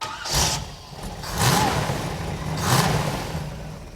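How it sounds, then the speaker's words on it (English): A brand-new, never-run Camaro crate engine being primed and started for the first time, with a rough, rumbling churn that swells in three uneven surges, heard on its own at moderate loudness. "Remember, this is a new engine. It's never been fired, so it's going to take a little bit of priming and a little bit of timing to wake it up."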